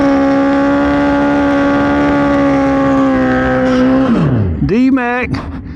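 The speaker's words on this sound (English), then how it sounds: "This time, he's riding a Hayabusa." A turbocharged Suzuki Hayabusa motorcycle holds a loud, steady high-pitched engine tone, then drops sharply in pitch before revving back up in quick rising surges.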